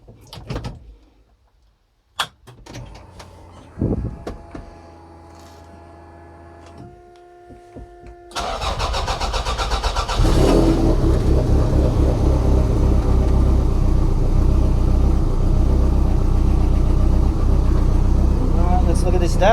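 A Toyota MR2 SW20 engine cranks with a few short bursts, then catches and settles into a loud, steady idle that continues to the end.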